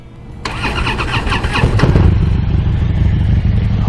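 A 2016 Harley Davidson Low Rider motorcycle engine cranks over and catches, then settles into a loud, close, rumbling idle with a steady uneven beat.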